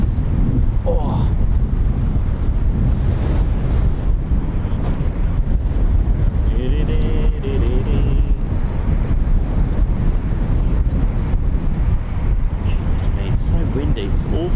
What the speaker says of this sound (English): It's so windy. It's awful.